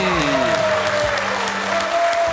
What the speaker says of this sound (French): Très applaudi par Françoise.